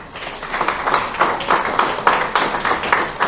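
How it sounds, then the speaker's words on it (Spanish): An audience at a Superior Court of Justice event in Junín claps to welcome a guest, a steady, rhythmic patter of hands at moderate volume with no talking. "Lo recibimos con votos de aplauso."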